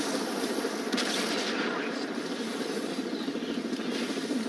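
Sustained rumbling gunfire and distant blasts from the first-person shooter game Crysis 3, a continuous dense wash of shots with no clear gaps, steady and moderately loud throughout.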